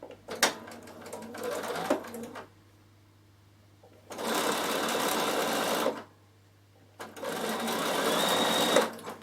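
Sewing machine stitching two pieces of fabric together diagonally from corner to corner for a travel pouch, in three steady bursts of whirring separated by short pauses, close and clear.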